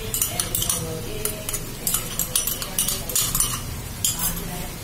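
Metal spoon clinks and scrapes in a pot while ground garlic is stirred into soft, tender marinated chicken, giving a run of rhythmic, fairly close clatters with faint sizzle underneath.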